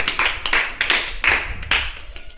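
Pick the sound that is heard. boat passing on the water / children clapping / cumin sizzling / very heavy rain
children clapping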